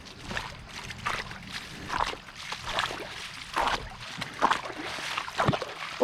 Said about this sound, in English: I'm now about to walk through another lot of water